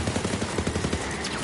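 Dense, rapid shotgun gunfire in the Borderlands 3 video game, a continuous run of loud overlapping blasts with no talk over it.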